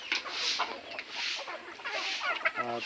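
Desi village chickens on an organic backyard poultry farm in Konkan cluck in short, overlapping bursts, close by and moderately loud, with a brief cackle at the end.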